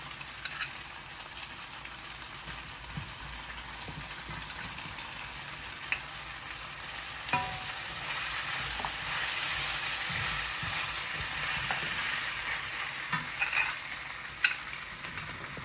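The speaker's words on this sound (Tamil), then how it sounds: "இதோட பொரிச்ச இந்த சிக்கனை சேர்ப்போம்" Fried chicken for Malaysian-style chili chicken stirred in a hot pan: a soft, continuous sizzle with occasional spatula knocks and scrapes, fairly quiet and with no voices.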